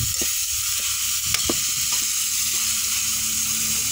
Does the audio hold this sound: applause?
no